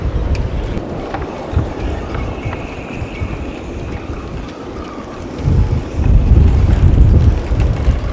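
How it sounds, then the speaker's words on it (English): Strong gusting storm wind buffets a sailboat, roaring against the microphone. It surges louder toward the end, with rigging and hull noises mixed into the steady rush. "there is some serious wind."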